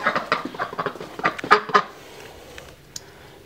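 A pet duck calls indoors with a rapid run of honking quacks, close by, then falls quiet apart from one last short call.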